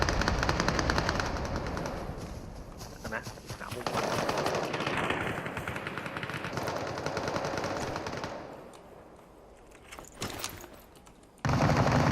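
Rapid automatic gunfire in the video game Super People, dense bursts of machine-gun fire that fade briefly and then return loud and close, with scattered single shots in between.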